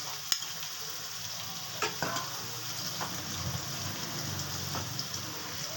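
Grated onion goes into a pan for a fish curry, katla maach do peyaji, and hisses and sizzles steadily at a moderate level. Scattered clicks of stirring break through the sizzle.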